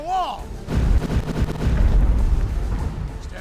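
Heavy booming shots and rumbling impacts during a castle siege in Defender of the Crown, a dense low roar of repeated blasts after a short whistling sweep, with someone talking over it.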